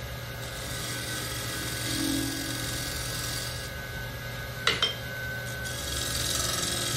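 A shear scraper cuts a wooden hollow form spinning on a lathe, giving a steady, close dry rasp with a brief sharp knock near the end, over a constant low machine hum.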